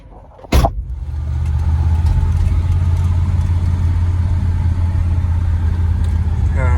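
A low-mileage 1965 Ford Ranchero Deluxe fires up with a sharp burst, then settles into a loud, steady, deep engine rumble close by as it runs.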